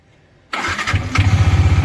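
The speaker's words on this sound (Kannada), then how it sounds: "ಗಾಡಿ ಇಂಜಿನ್ ಒಂದು ಸ್ವಲ್ಪ ವಾರ್ಮಪ್ ಆಗಲಿ" A Yamaha R15 V3 motorcycle engine cranks and catches after a short silence, then settles into a close, loud, pulsing idle as it begins warming up.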